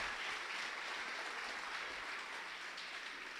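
A church congregation applauds during a sermon, a quiet, distant wash of many hands clapping at an even level throughout, without voices on top.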